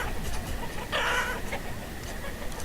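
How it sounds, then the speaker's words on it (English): A chicken clucks briefly in the farming town of the video game Banished, one short squawking burst at moderate level over a faint background hum. "A lot of chickens."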